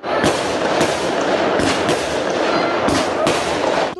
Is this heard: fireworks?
yes